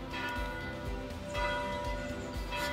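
Church bell ringing, heavy rhythmic strikes with a long sustained ring, moderately distant and steady, carrying under a noisy background.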